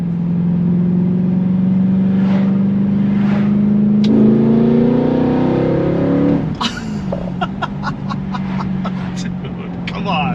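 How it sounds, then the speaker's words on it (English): Mercedes S65 with a modified exhaust revving close by, the engine note rising and climbing through several pulls before dropping back to idle, with people talking over it. "Oh, you can hear it a little bit when we rev it."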